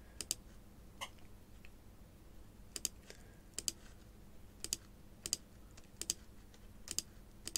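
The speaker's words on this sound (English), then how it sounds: "I want to make sure that I have the correct note duration selected. So I've got 16th notes selected here and I just simply start clicking." A computer mouse clicks to enter MIDI notes in a music program, sharp isolated clicks coming irregularly, some in quick pairs, quiet and close over faint background hiss.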